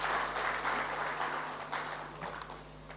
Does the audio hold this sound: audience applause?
yes